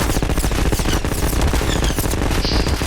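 Combine soldiers firing in the GMod video game, rapid sustained automatic gunfire in dense overlapping bursts, loud and continuous without pause.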